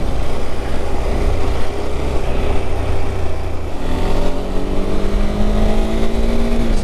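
Loud, close road traffic with engines droning steadily on a busy road along the Amazon route, where vehicles are being overtaken; a rising engine note climbs near the end as one vehicle passes, with no talking.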